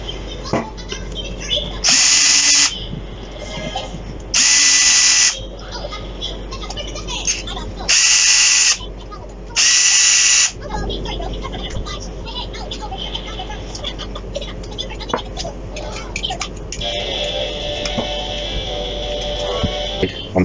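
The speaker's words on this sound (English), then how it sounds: "so now we have to open these 4 screws" A cordless power tool unscrews four screws from a vacuum cleaner during motor repair, with four separate whirring bursts of about one second each at an even pace, close and loud over steady background noise.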